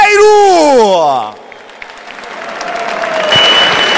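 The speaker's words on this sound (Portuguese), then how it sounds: "uma salva de palmas para o grande atleta Will Ribeiro!" At a mixed martial arts event, a loud announcer's voice rings out briefly, then crowd applause and cheering swell from a lull into a broad, sustained roar.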